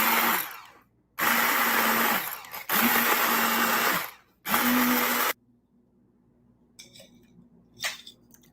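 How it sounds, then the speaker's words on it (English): An immersion blender whirs through dried tomato flakes in three loud bursts with short pauses between, then stops, leaving faint handling clatter near the end. "why don't I hit it with the immersion blender and see if I can get it any"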